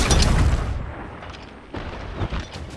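Booming ship cannon fire in the pirate game Sea of Thieves: a heavy, loud blast opens, then further rumbling shots and impacts follow over a steady background of sea and game noise.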